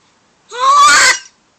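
A single short, loud sneeze bursts out close by, a sharp breathy snort lasting under a second in an otherwise quiet setting.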